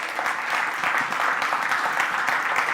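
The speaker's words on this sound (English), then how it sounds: "Let's give everybody here a nice round of applause for..." An audience at a cybersecurity event claps steadily as people are called up on stage, a dense, even round of applause lasting a few seconds.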